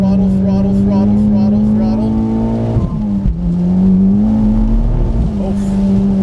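A modified Mitsubishi Evo X on a soaking-wet track: a loud, close engine holds a steady high note, dips sharply as revs drop, then climbs again under throttle. A voice is faintly present beneath it.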